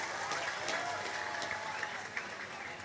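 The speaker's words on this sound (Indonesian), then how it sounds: "tepuk tangan buat Cici Faramida" An audience claps at an Islamic religious gathering, giving a short burst of steady, crowded applause that sounds somewhat distant and soft, with no clear talk over it.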